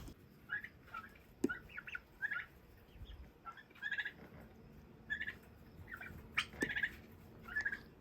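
Several six-week-old turkeys gobble in short, repeated bursts at moderate distance, with brief pauses between calls and no one talking.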